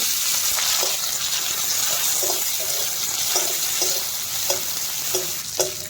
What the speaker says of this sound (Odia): ଏବେ ପିଆଜ ଆଉ ରସୁଣ କଞ୍ଚା ଲଙ୍କା ପକାଇଦେବି।